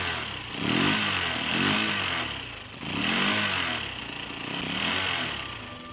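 An old motorcycle engine runs alone and fairly loud, its rough, clattering note swelling and easing in repeated revs roughly every second or two.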